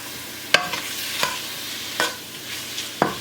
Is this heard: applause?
no